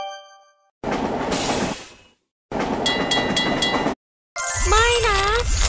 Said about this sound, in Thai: รถไฟกำลังจะออกแล้ว